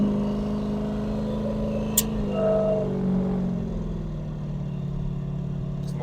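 A 1300hp turbocharged Corvette with a TH400 automatic pulls away from a standstill, a steady low engine drone with a brief rising tone as it moves off, heard from inside the car with no talking.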